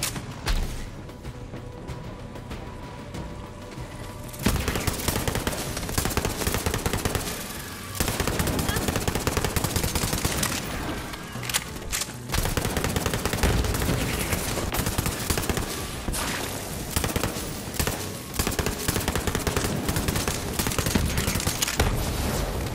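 Sustained gunfire in the video game Borderlands 3: dense, rapid automatic bursts and heavy shots rattling almost continuously for over twenty seconds, loud and close, with a quieter stretch at the start and a voice faintly under the din.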